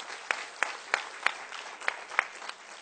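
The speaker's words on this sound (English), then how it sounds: "I'm glad you were clapping for the good news" Audience applause at a company business presentation, a steady patter of clapping with a few sharp, louder claps standing out at regular intervals, filling the room without any talk.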